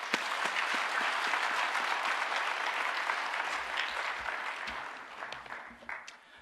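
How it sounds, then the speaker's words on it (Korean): A congregation at a church service claps to welcome a visiting pastor, a full, steady round of applause that gradually thins out into a few scattered claps at the end. "우리 목사님을 환영의 박수로 모시겠습니다"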